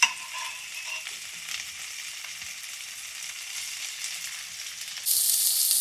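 Paneer cubes sizzle in oil in a pan while fried rice is prepared, a soft continuous frying hiss that jumps louder near the end as more is added.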